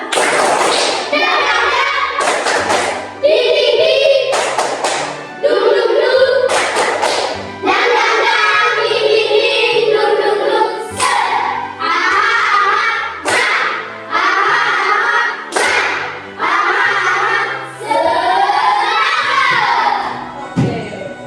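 A fifth-grade class claps out a rhythmic 'tepuk semangat' routine, loud patterned bursts of hand claps in quick sets separated by short pauses, mixed with children's chanting and shouting voices.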